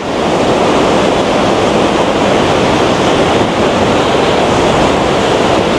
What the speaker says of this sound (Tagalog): Ayan na yung falls. Oh, lakas, boy.